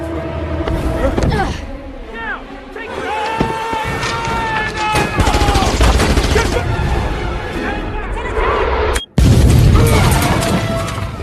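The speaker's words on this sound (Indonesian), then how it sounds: "menembaki pengawal Presiden dengan barbar" Gunfire and a suicide explosion in the film Salt, as bursts of shots and crashing impacts mix with tonal movie sound, cut by a sudden brief silence before a loud blast rips through near the end.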